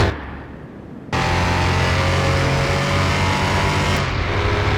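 Porsche racing on slicks at over 200 in Car Mechanic Simulator 2021, a loud sustained engine roar that cuts in abruptly after a quieter start and holds steady at high speed.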